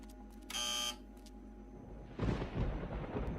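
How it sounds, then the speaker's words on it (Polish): Thunderstorm in the video game Runaway 3: a low rumbling roll of thunder builds and swells mid-clip and lingers, preceded by a short electronic tone. "Burza."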